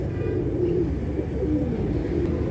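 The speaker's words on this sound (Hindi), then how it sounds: "कबूतर जो है खुल चुके हैं और वो सब पानी पी रहे हैं" Pigeons cooing in snowy winter weather, a low steady burble of soft coos running throughout at close range with a faint rumble beneath.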